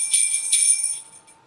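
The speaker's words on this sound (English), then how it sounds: "I chose a jingle bell." A jingle bell shakes in two quick, bright, shimmering bursts that fade into a soft ringing tail, heard close and alone, used as a rhythm instrument in a children's winter song activity.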